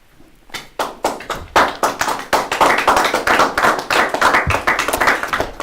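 An audience applauds at the end of a lecture on psychology and faith: a dense, sustained burst of hand clapping that starts sparse, then swells to a steady, close, lively round lasting several seconds.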